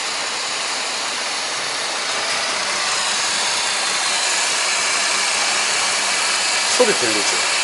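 A steady, broad rushing hiss from a Chevrolet Colorado engine struggling to draw air and prone to stalling, continuous and fairly loud, with a brief voice near the end.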